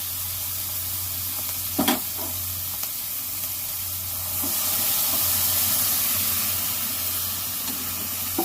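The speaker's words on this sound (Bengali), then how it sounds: "এবার আমি ডালটা ঢেলে দেব।" Khesari dal poured into a hot pan, with a steady, moderately loud sizzle that swells about midway and holds, with a few brief stirring knocks near the start and no voices.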